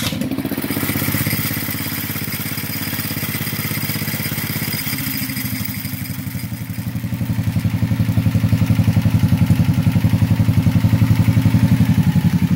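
The engine of an off-road fun buggy runs at high idle, a close, loud, steady mechanical rumble that swells a bit louder in the second half, with no talk.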